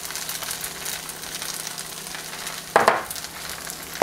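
Eggs for chicken and shrimp pad thai frying in an oiled pan, a soft steady sizzle throughout with a brief louder crackle burst near the end.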